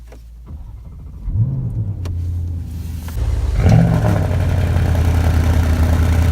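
Porsche cars sit idling at a road tour gathering, a low steady engine rumble close by that thickens as another engine starts and revs briefly, then settles into a continuous idle.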